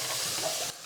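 Tomatoes tipped into a pan of golden frying onions for saag tandoori aloo, giving a steady close sizzle and hiss that drops away abruptly near the end.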